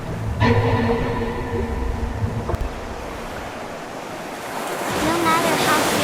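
Ocean surf washes and rumbles steadily, with a brief tonal sound early on and the wash swelling louder toward the end.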